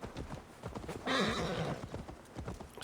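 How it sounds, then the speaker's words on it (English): A horse in Assassin's Creed Valhalla arrives with quick clip-clopping hoofbeats and lets out a loud whinny in the middle, close and clear with no talking. "Let's call the horse in again."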